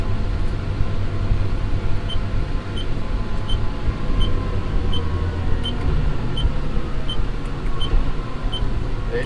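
Steady engine drone of a new John Deere 6155M tractor driving, a constant low rumble with cab hum, heard alone at a continuous even level.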